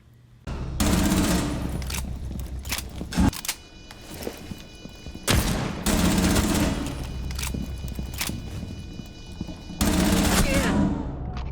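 Rapid bursts of gunfire in Rainbow Six Siege, a tactical shooter: several loud volleys from a P10 Roni with short gaps between them, close and sharp over background game sounds.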